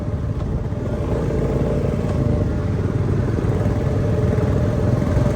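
A motorcycle engine runs steadily while being ridden, a loud, continuous low rumble with a rough, vibrating throb throughout and no talk.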